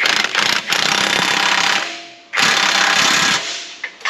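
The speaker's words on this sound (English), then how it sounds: "take this wrench, reach around and get a hold of the nut. We'll tighten it from the bottom." On a Ford Explorer 4.6 front end, a wrench tightens a nut with two loud, sustained, rapid hammering bursts, each about two seconds long, separated by a short lull.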